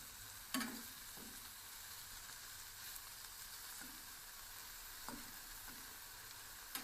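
Quiet, steady sizzling of sucuk (Turkish sausage) frying in a pan, with occasional scraping clicks of stirring scattered throughout; no voices.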